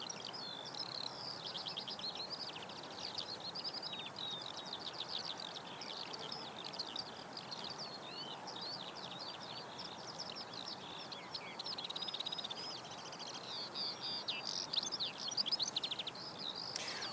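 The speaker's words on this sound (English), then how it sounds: "Hope you're enjoying listening to all the skylarks." Skylarks sing continuously in open country near Christchurch Airport, New Zealand, their dense, rapid high warbling trills layered over a steady low background hum, at moderate distance throughout.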